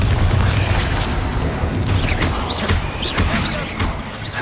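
Bombarda spell explosions in Hogwarts Legacy on PS5: a dense, booming rumble with repeated crashing impacts and whooshing magical effects, loud and continuous through the combat.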